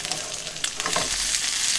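Roast beef hash frying in a pan after being flipped, a steady close sizzle with crackling spits throughout, alone without talk.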